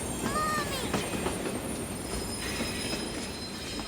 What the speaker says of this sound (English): as he watched the train getting closer, he began to feel a little scared.